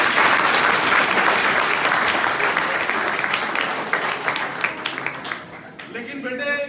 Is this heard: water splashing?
no